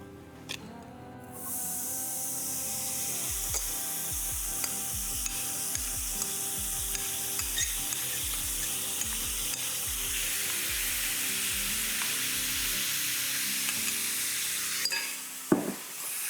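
Onion and hot smoked salmon sizzle steadily in a hot pan, a broad continuous hiss with a run of soft rhythmic low knocks partway through and a sharper clatter near the end.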